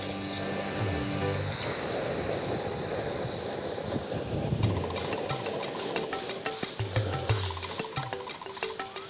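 Coconut milk poured into a pan of sautéed seafood and grated ginger: a bright hissing sizzle that settles into bubbling, with some clinks and scraping of a utensil against the pan.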